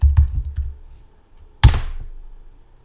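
Someone types a short command on a computer keyboard: a quick run of soft keystroke taps, a pause, then a single louder, sharper key strike, like the enter key, fading out.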